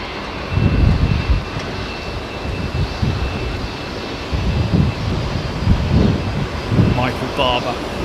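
An airliner taxis near Terminal 4 with a steady engine whine and low rumble close by, surging now and then, while someone talks over it.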